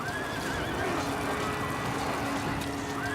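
A horse neighs and rears in a battle scene from an HBO drama, its whinny rising over a dense, noisy background of commotion at steady loudness.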